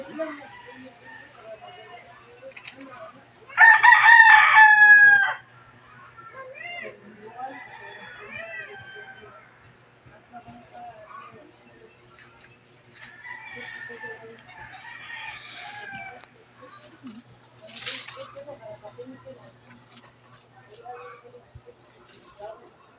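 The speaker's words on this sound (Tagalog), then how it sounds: "Ayan, manok na pang sabong." A fighting rooster (gamecock) lets out one loud, close crow, with scattered clucks and calls from other birds around while a person talks throughout.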